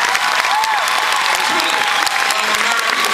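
An audience at a college commencement breaks into loud sustained applause, dense clapping from a large crowd filling the hall, with a few voices mixed in beneath it.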